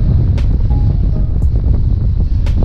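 Steady wind buffets the microphone at a riverbank in late winter in a dense low rumble, loud and continuous, with a few faint higher clicks over it.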